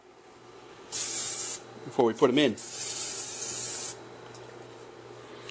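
Two bursts of hissing spray as olive oil is sprayed onto a hot grill, the second longer and steadier, with someone speaking briefly between them.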